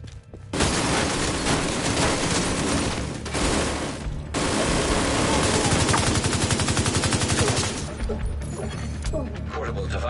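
An ammunition stockpile detonates in a video game, setting off a dense, loud barrage of rapid gunfire crackle and booming blasts that roars on almost continuously, with only brief drops in intensity.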